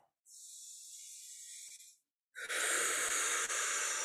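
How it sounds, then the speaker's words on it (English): A person takes a long, deep breath in, a close airy hiss lasting well over a second, then after a short pause exhales strongly with a louder, rougher rush of air. "Take a really deep breath."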